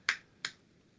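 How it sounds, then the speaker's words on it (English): Two sharp, quiet hand claps land close together, a crisp pair of snaps about a third of a second apart, with nothing else around them. "You clapped for yourself."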